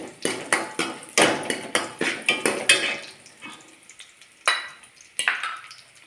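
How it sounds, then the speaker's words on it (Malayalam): Curry leaves and dried red chillies fry in a tempering for a plantain and colocasia pulissery, while a spatula knocks against the pan in a quick run of regular clanks, then a few separate strikes over a light sizzle. "കറിവേപ്പില ഇടാം വറ്റൽ മുളക് ഇട്ടൊന്ന് മൂത്ത് വരട്ടെ"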